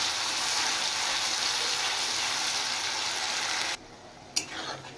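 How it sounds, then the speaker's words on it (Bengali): Spices frying in a pan make a continuous close sizzle that cuts off abruptly near the end, followed by a brief clink and some soft movement. "এবার এই মশলাটা একটু ভেজে নেব।"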